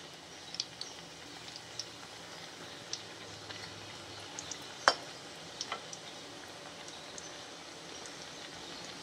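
Mutton karivadai made with minced mutton fry softly in a pan over moderate heat: a faint, steady sizzle with scattered small pops and ticks.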